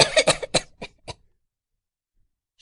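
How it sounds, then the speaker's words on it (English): A burst of harsh, violent coughing, several rapid hacking coughs close up, then silence, followed by a faint breath at the end. "Drinks and coughs violently."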